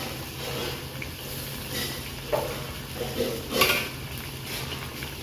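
Ginger-chili and garlic paste frying in hot oil in an iron kadai while tempering for sev tameta curry, with a steady low sizzle and a few clinks of a spoon against the pan.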